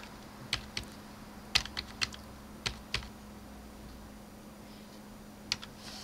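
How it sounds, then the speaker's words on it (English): Typing on a computer keyboard in a quiet room, about a dozen scattered, sharp, close key clicks in irregular bursts over a low steady hum. "I'm just going to type in a value just so I can go over that value."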